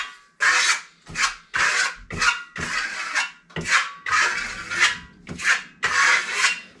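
A trowel applying deep red Venetian plaster to a wall in random strokes, a close, loud scraping rasp repeated about ten times in quick rhythmic sweeps, each stroke rising and fading.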